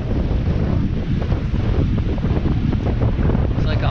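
Strong wind buffets the microphone on Lake Wallula, a stretch of the Columbia River, in a steady, loud, rushing roar that never lets up, with no talking.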